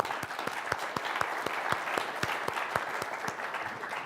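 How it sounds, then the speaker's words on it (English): Audience applause after a new-venture pitch presentation, a steady wash of many hands clapping with a few sharper individual claps standing out, moderately loud and sustained throughout. "Nice round of applause."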